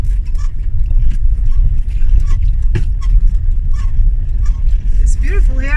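A small car driving through narrow town streets, its engine and road rumble loud and continuous up close, with a brief brighter whine near the end and a voice talking over it.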